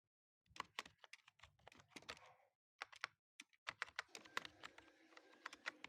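Keys clatter on a computer keyboard in quick, irregular bursts of close, crisp clicks, with a short pause in the middle before a denser run of typing. No one speaks.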